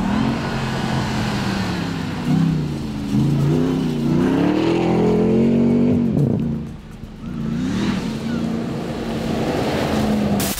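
A RAM TRX 1500 pickup's engine revs on a test drive, its drone rising and falling steadily and loud over wind noise, with a brief dip before climbing again.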